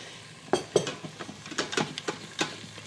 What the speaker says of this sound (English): we wanna scrape off the bottom brown bits